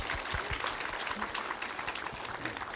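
Audience applause at a political 'hope concert' event in Jeju, a steady, fairly faint wash of clapping that runs unbroken through the whole stretch.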